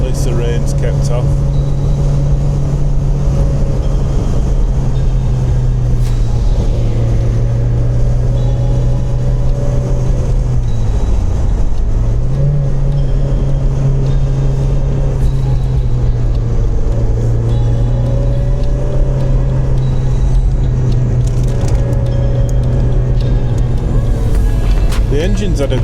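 A car engine drones steadily and loudly from inside the vehicle while driving a moorland road over Grinton Moor near Reeth, its hum rising and dipping slightly with the throttle.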